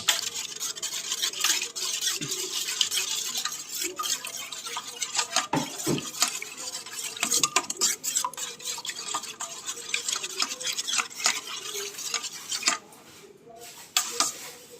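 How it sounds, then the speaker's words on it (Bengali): Four eggs and a little salt are beaten in a large bowl, giving a continuous wet, rapid clatter of whisking against the bowl. Occasional clinks break through the steady beating, and no one speaks. "একটা বড় পাত্রে আমরা 4টে ডিম ফাটিয়ে নিয়েছি, সাথে সামান্য পরিমাণে লবণ দিয়ে ডিমটাকে ভালো করে আমরা ফেটিয়ে নেব।"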